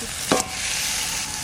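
Chicken breast pieces dropped into a hot pan with yogurt masala, a loud continuous sizzle with one short thump and burst as the meat lands.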